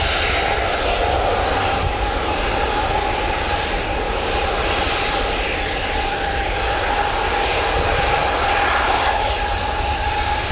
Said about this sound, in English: we've got another Jet2 holidays about to just line up on wait on the runway there